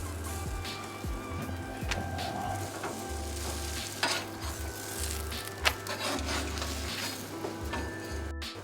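Pita breads cook on a hot plate on a barbecue with a low, continuous sizzle, broken by occasional scraping and rubbing touches against the metal.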